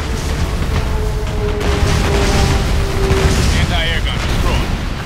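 An anti-air gun is blown up in Ace Combat Assault Horizon, a loud booming blast buried in dense jet and combat noise, with speech heard alongside.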